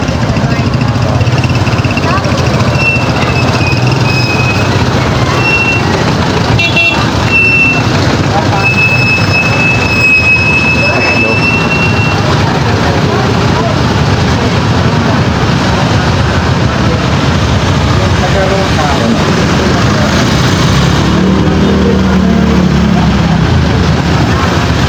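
Dense street traffic with tricycles and other vehicles, engines rumbling and idling nearby, a reversing beep and high whines over a constant loud roar, with people talking throughout.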